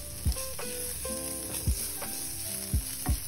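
Ajwain (carom) leaves fry in a pan with a steady close sizzle, with a few dull knocks of stirring against the pan.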